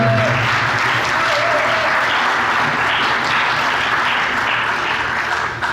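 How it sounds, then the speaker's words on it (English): A large audience claps loudly and steadily for nearly six seconds at an International Human Rights Day commemoration event, a dense, even wash of applause with no talking. "Another round of applause for Matt Nato."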